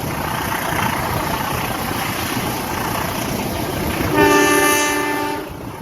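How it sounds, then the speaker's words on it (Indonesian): The Banyubiru economy-class passenger train on the Solo–Semarang line rumbles steadily from inside a carriage, with a loud, sustained horn sounding near the end over the running noise. "Perjalanan kereta api Banyu Biru sekarang berhenti di stasiun Padas"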